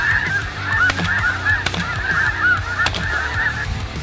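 Geese honking during a bird hunt: a flock calls loudly and continuously in repeated overlapping honks, with a few sharp shotgun-like thumps mixed in.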